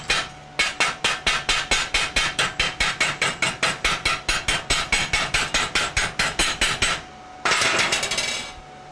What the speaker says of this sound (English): Let's pull it out our chipping hammer.